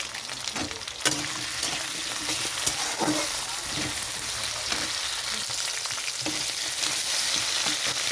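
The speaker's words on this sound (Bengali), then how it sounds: "আলু আর চিংড়ি মাছ একটু ভাজা হয়ে গেছে।" Potatoes and shrimp sizzle steadily in a pan of hot oil for a curry, a continuous close crackle broken by a few louder spatters and stirring scrapes, with no voices.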